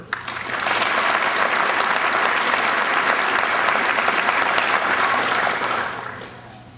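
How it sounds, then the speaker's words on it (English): A graduation audience for an Army Captains Career Course claps in sustained, dense applause for an honoree, building quickly, holding steady for several seconds, then tapering off at the end. "Please join me in a round of applause for Captain Kerber."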